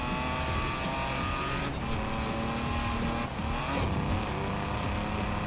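Cars race in the Forza video game, engines roaring loud and continuous with shifting pitch and bursts of tire squeal through the corners, no voices.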